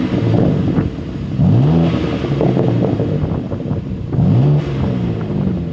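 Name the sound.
car exhaust revving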